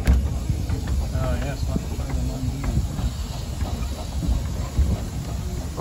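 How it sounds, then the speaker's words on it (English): Romney Hythe and Dymchurch Railway miniature train running, a steady rumbling, hissing rail noise with faint rhythmic clatter heard from on board, with voices talking over it. "There's the engine going."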